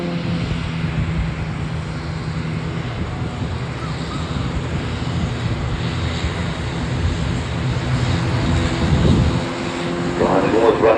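The Starlings aerobatic display aircraft at Farnborough Airshow 2024 spin downward, their engine droning steadily overhead for the whole stretch with wind rumble, swelling slightly louder toward the end.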